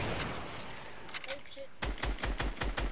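Fortnite gunfire, a few scattered shots followed by a fast burst of about eight sharp, evenly spaced rounds near the end, with brief voice in between.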